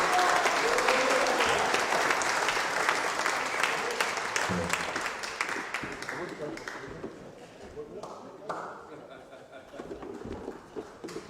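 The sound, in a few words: audience applause after fiddle performance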